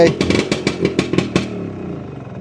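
A classic Vespa scooter's small, tuned engine putters and revs in a string of quick bursts, then settles into a steady idle, close by and fairly loud.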